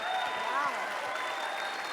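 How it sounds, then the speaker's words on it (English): An audience at an on-stage conference talk applauds, a brief, continuous patter of many hands under a loud crowd wash, with voices mixed in among the clapping. "Please give a huge round of applause to Deborah Morales and the living legend, Kareem Abdul-Jabbar"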